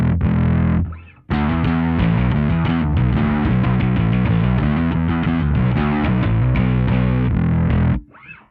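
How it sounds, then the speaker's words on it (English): Bass guitar played through a Darkglass Kaamos distortion pedal, a loud, gritty sustained riff with thick low notes and a short break near the start, heard alone without any voices. "I just love that distorted sound"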